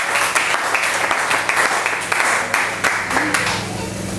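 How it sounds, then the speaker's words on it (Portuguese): Church congregation clapping during a bilingual sermon, a steady wash of applause that fades toward the end, with a voice speaking over it. "Aplauda o nome de Jesus."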